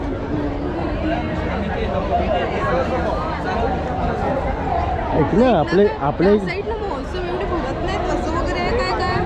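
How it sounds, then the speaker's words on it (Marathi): Dense crowd chatter at the Aagri Koli seafood festival, a steady hubbub of many overlapping voices at a busy pickle stall, with a nearby person talking over the babble. "गर्दी बघा किती आहे ते"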